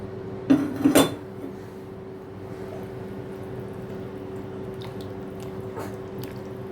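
A couple of wet squishing clatters as sautéed bitter gourd is tipped into a pot of curry, then a quiet steady hum with faint clinks.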